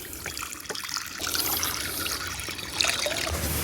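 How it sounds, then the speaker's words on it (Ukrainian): Water runs steadily into a new cast-iron cauldron being rinsed, a continuous close trickle and splash that swells louder partway through and keeps going without any talk. "Наливаємо води"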